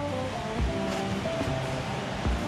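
River water rushing steadily over mossy rocks, a continuous broadband roar that fills the whole stretch with only slight swells in level.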